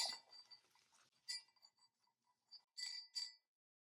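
Small decorative bells on a Christmas wreath bow give a few light, high clinks and jingles, scattered in short bursts with quiet gaps between, close and soft.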